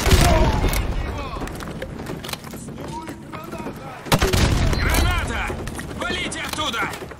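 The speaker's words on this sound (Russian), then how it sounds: "Граната!" In the Call of Duty Modern Warfare 2 campaign, a grenade blast and scattered gunfire ring out as heavy booms and rattling shots amid battle noise, with shouting voices over the combat.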